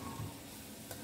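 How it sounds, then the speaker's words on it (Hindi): Ground spices go into a simmering, oily pan dish and are stirred in, making a soft, steady sizzle with a faint scrape near the end, quiet and close, with no voices. "अब ये मसाला डाल रहे हैं सब"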